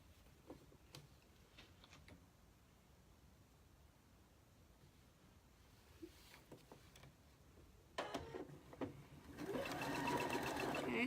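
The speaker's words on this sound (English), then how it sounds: "So I'm going to start sewing right here, go to the corner, turn, go all the way around" A sewing machine stitching a patchwork pin cushion, with a few faint clicks and handling taps at first, then the machine starting up into a steady, fairly loud whirring hum near the end.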